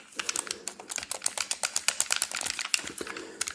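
Rapid, irregular plastic Nintendo controller button clicks tapping close by, dozens in quick succession with uneven rhythm.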